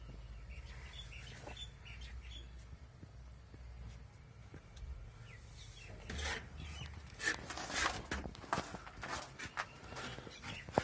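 Young pigeon chicks give faint, scattered high chirps and peeps over a quiet background. Scratchy rustling and tapping close by grow busier toward the end.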